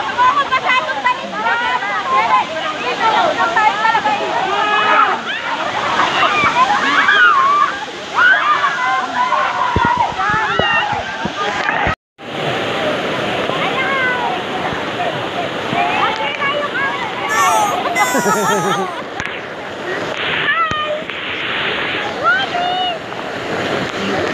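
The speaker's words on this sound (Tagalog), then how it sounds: "Ito na kami sa falls." Daranak Falls pours in a steady, loud roar of rushing water close by, with voices talking over it throughout and one brief cut near the middle.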